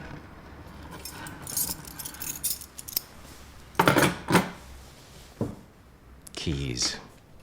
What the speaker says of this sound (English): Keys. Very good.